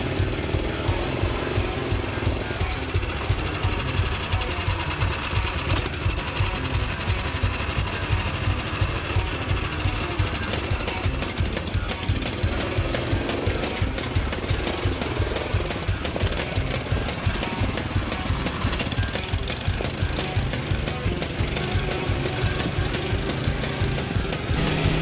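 A ROKON motorcycle engine rides a sketchy off-road route, its rapid, steady chugging putter running loud and close throughout with a dense rhythmic pulse and no talk.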